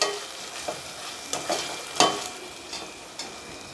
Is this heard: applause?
no